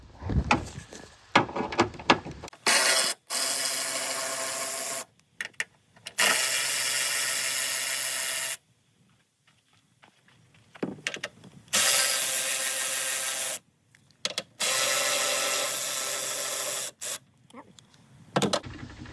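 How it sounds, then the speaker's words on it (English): A ratchet working loose 10 mm bolts on the wiper assembly of a Pontiac Montana, heard as repeated loud bursts of dense clicking separated by pauses and short quiet gaps. "Let me take those bolts out."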